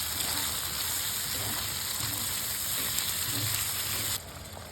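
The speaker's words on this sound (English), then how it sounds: "Now add 500 grams of liver. Sauté for a few minutes on medium heat." Mutton liver sautéing in a pan over medium heat, a steady close hiss and sizzle that runs unbroken, dropping slightly in level near the end.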